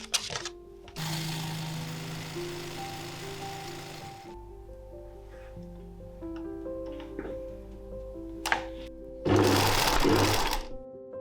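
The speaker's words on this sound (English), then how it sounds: "then it was time to sew it together" A sewing machine stitches tulle dress pattern pieces together in several close runs of steady mechanical whirring. The runs are broken by short pauses and lighter handling clicks, and the last burst is louder.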